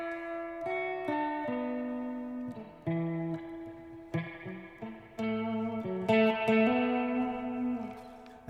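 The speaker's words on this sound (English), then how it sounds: "at the moment, I'm on the external reverb, which is a mod tank" Electric guitar played through an external medium-sized spring reverb tank, single notes and short phrases ringing out with a splashy, lingering reverb tail, close and clean with no talking.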